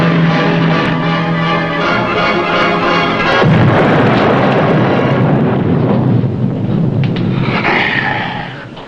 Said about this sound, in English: Rig for depth charge.